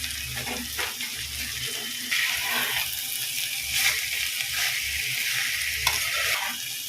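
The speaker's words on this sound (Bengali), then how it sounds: "এইভাবেই আমি সবজিগুলোকে ভাজা করে নেব" Tomatoes and capsicum fry in a pan, a steady broadband sizzle punctuated by soft stirring scrapes, close and continuous with no voices.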